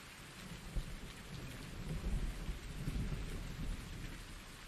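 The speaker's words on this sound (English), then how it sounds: "Thunderstorm. Yay." Thunderstorm with rain in the video game Farming Simulator 19: steady hiss of heavy rainfall with low rumbling thunder rolling underneath throughout, moderately quiet and without speech.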